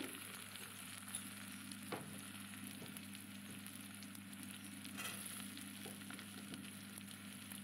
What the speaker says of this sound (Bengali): এবার দেখো চারটে কাঁচা লঙ্কাও দিয়ে দিলাম এখানে।